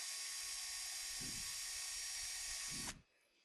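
A small high-speed drill whines steadily through marquetry work for a Boulle-style mosaic, its thin, loud, constant tone cutting off abruptly near the end, with faint low thumps underneath.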